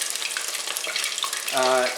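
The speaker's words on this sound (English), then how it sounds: "this initial frying, yes, it's going to be fried twice" Chicken pieces fry in oil, sizzling and crackling steadily at close range, a dense frying hiss throughout, with a brief low hum rising near the end.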